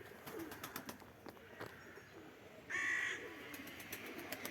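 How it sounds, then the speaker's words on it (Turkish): Crows caw in the distance over quiet outdoor background, with one louder, harsher call standing out near the end. "Çok karga var arkadaşlar."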